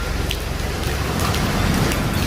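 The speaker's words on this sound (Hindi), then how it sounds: "अभी थोड़ी हल्की बारिश है" Light winter rain falls outdoors near a madrasa gate in Deoband, a steady soft hiss of drops with a low rumbling undertone, continuous and even, no talking.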